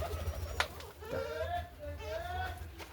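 A silver Lahori pigeon in a loft coos in soft, repeated rising and falling calls, close by, with faint background noise and a voice heard briefly.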